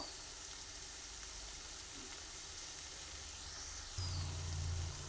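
Fish oil curry with potato, eggplant and rohu fish sizzles softly in a pan as it is stirred, a faint steady frying hiss with a louder low rumble near the end.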